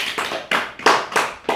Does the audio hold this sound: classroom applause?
yes